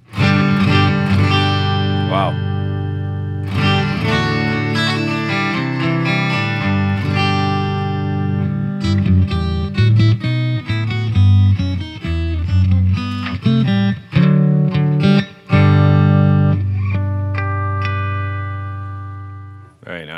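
Acoustic-style tones from the piezo pickup of a LaVoce Z-Glide Custom guitar, strummed and picked chords ringing loud and close for about twenty seconds, with a brief spoken exclamation near the start.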